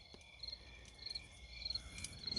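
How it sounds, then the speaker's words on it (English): Crickets chirp in soft, evenly spaced bursts, a steady high trill repeating about every half second against a quiet outdoor background. "the sound of crickets chirping can be aggravating, but at other times, very relaxing."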